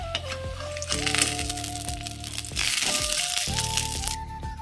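Homemade bori lentil dumplings frying in hot oil, a steady crackling sizzle with sharp pops and rattles, close up, alongside clinking and tonal kitchen noises.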